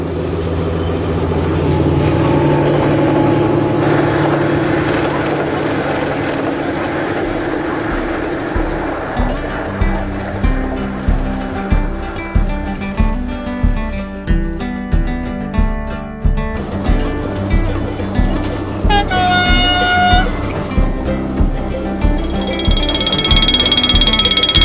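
A railcar powered by a V12 engine pulls away. A deep engine drone gives way to a loud, regular clack of wheels over rail joints that speeds up, and a brief high tone sounds near the end.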